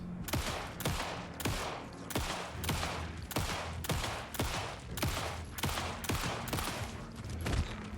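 Rapid bursts of gunfire in the video game Alan Wake II, a dozen loud close shots in a fairly even rhythm, each with a sharp crack and short ringing tail.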